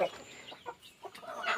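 A brown hen clucks softly in short, uneven bursts, close by and fairly quiet against a dim background.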